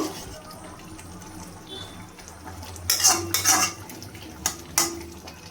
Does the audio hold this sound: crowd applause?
no